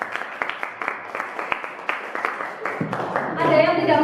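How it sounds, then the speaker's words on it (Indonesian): A school class claps together in a quick run of distinct, fairly close hand claps lasting a few seconds, then fades into murmuring voices and room noise. "Tepuk tangan dulu, Pak."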